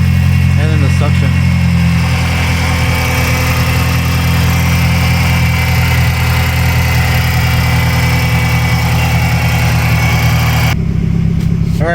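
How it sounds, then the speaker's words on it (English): A Mazdaspeed6 with a newly installed intake idles and revs steadily, its turbo whine and intake suction audible over a loud, close engine drone that stops abruptly near the end; a person talks over it. "you'll be able to hear the turbo a little bit more, and then the suction"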